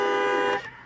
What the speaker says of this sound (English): Beeping his horn, it's not working.